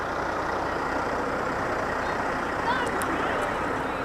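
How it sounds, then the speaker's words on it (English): A parade truck, Bel-Air truck number 8, rolls past at a summer festival street parade with a steady, loud engine rumble mixed with crowd noise, and a few faint high beeps near the end. "This is Bel-Air truck number 8."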